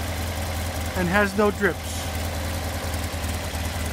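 A 1964 Porsche 356SC engine with rebuilt carburetors idles steadily in a low, even rumble throughout, while someone speaks briefly over it.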